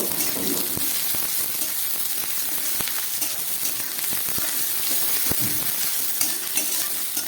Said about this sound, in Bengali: এই গরম তেলের মধ্যে আমি পেঁয়াজটাকে ভেজে নিচ্ছি।